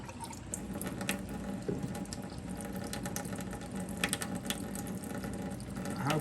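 Water runs steadily from an outdoor spigot and pours over tomato seeds in a container, a close, continuous splashing stream with small trickles, and no voices.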